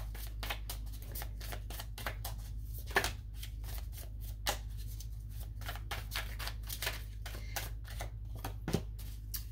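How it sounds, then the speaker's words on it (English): Tarot cards are shuffled by hand in a rapid series of crisp riffling clicks and flicks, close and quiet over a low steady hum. "The cards are not wanting to shuffle."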